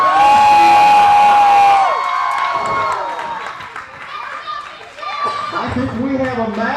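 A wrestling crowd cheers and shouts at the end of a match night, with many voices, some of them young, rising loudly together and then fading into a mix of calls and chatter.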